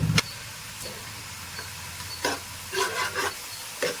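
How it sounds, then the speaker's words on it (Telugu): Onions fry in a pan for mutton biryani, giving a faint, quiet sizzle broken by a few short scraping stirs. "మనకి ఆనియన్స్ మెత్తబడి కొద్దిగా రెడ్డిష్ వచ్చేంత వరకు, బ్రౌనిష్ కలర్ వచ్చేంత వరకు బాగా వేయించేసుకోవాలండి"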